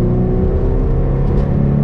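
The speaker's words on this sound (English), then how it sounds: "you can hear how loud my car is. We'll just bring it up to 60 in third." Toyota MR2 Roadster engine pulling steadily in third gear from inside the car, a loud, sustained droning hum with rich low harmonics and no voices.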